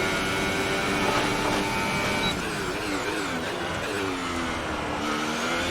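Race car engine from the F1 2018 video game revving steadily and loudly at a sustained high pitch, holding a constant drone with no talk over it.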